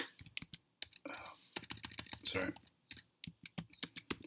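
Rapid clatter of keystrokes on a computer keyboard, bursts of close, crisp clicks with short pauses between runs, a few louder taps standing out.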